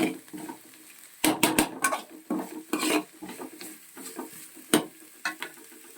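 Ginger garlic paste frying in a pan for Schezwan fried rice, with a utensil scraping and clanking against the metal in irregular bursts over a soft low sizzle.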